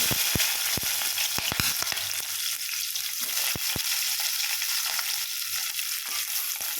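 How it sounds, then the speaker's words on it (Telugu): Steady loud sizzling of chopped onion and green chillies frying in hot oil in a pot, with scattered sharp pops and crackles throughout. "మంచిగా వేయించుకోవాలి ఆనియన్స్ కొంచెం వేగినాయి"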